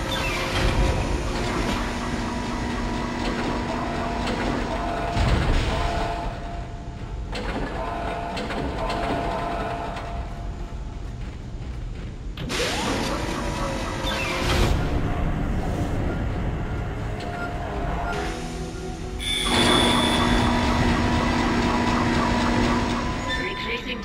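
A tram in the video game Dead Space rumbles steadily along its tracks with a clattering mechanical drone, broken by a few abrupt shifts in the noise; no one speaks.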